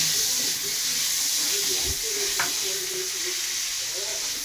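Ginger paste frying in hot oil with raisins, a steady bright sizzle and hiss with occasional stirring, while voices talk faintly over it.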